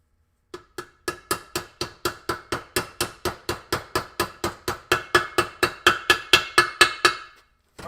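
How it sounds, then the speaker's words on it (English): A T5 transmission seal is hammered into place with about two dozen steady, evenly spaced metallic blows that grow slightly louder toward the end, close by and with no talking. "Hammer it in."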